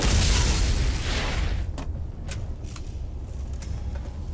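Coolant pumps blow apart under gunfire in Borderlands, a loud broad rumbling boom that fades after about a second and a half into a lower roar with a few faint sharp clicks.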